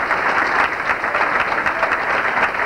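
An audience at the East Detroit High School Class of 1999 senior class event applauds steadily, with dense, continuous clapping from many people at an even level and no voices on top.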